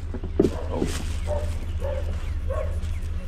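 A dog barks a few times, sharp yips and short whimpering cries over a low steady rumble, fairly close.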